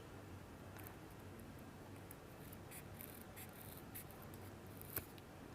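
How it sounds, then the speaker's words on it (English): Scissors snip around the edges of a leather Christmas ornament, faint crisp cuts scattered irregularly over a quiet room hiss, with one sharper snip near the end. "I'm just going to use scissors and I'm just going to clean up my edges a little bit"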